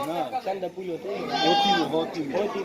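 Goats bleating on a farm in Mardan where animals are being loaded onto a truck, several overlapping cries rising around the middle, mixed with someone talking throughout.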